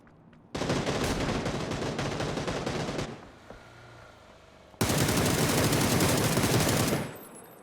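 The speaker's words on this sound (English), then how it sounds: "That was Paige doing the shooting." Automatic gunfire in the battle-royale video game PUBG: two loud sustained bursts of rapid shots, several seconds each, split by a brief quieter gap.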